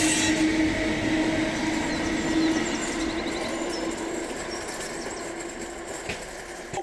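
A train passing near a market and car boot sale in Bathgate, West Lothian, Scotland, its steady rumbling roll and clattering wheels sustained at moderate distance with a faint high squeal, gradually easing in loudness.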